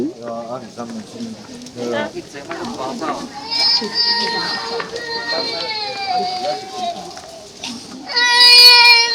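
A young boy cries in sobbing, wavering bursts near a train in Taiwan, with other voices talking around him and a louder wail at the end.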